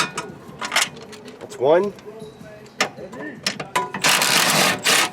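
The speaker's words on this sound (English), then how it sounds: "So now I'm going to remove the two bolts on the wall." Two bolts being loosened and removed from the wall mount of a rear camber kit on a car, giving metallic ratcheting, clinks and scraping bursts that are close and moderately loud, with someone speaking in between.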